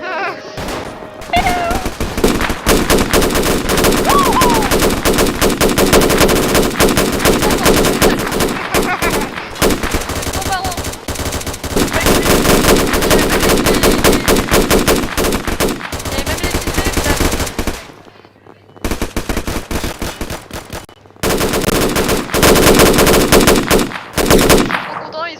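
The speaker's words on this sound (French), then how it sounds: "Ils font péter les pétards." Firecrackers going off at a gathering: dense, crackling strings of loud pops run almost continuously, with a few brief pauses and a high squeal or cry breaking through at times.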